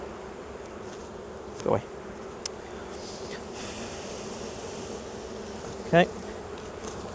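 Honeybees drone in a constant, close buzz around a hive during checkerboarding for swarm prevention, with a person speaking briefly twice over the swarm's hum.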